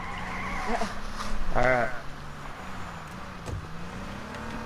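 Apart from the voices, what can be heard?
vehicle driving and skidding in the video game H1Z1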